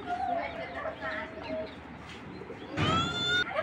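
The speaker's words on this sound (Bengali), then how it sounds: "দেখেন মাদি কবুতর" A female Python-breed racing pigeon gives a brief, throaty coo close by, heard under ongoing speech, with a sharper, louder vocal burst near the end.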